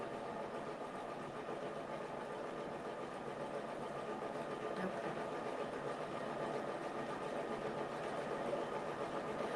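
Multi-needle embroidery machine stitching dense fill stitches on a mug rug, a soft, continuous rapid mechanical whir at low level, steady from start to end without talk.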